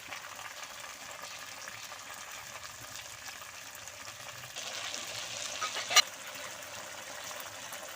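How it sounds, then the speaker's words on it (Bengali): Garlic paste, spices and chopped tomato frying for a pangas fish curry, a steady low sizzle with soft stirring, getting slightly louder midway, with one sharp clink near the end. "রসুন বাটা মশলাগুলো খুব ভালো করে কষিয়ে নেব দিয়ে দিচ্ছি টমেটো কুচি"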